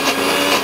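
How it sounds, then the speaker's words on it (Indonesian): A blender or food chopper whirs steadily, grinding an oily spice paste for Indonesian tahu tempe bacem; a dense, continuous motor roar, loud and close, with no voices. "Setelah itu kita blender atau kita chopper sampai dia halus."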